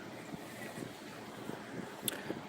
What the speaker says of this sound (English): But it's kind of windy.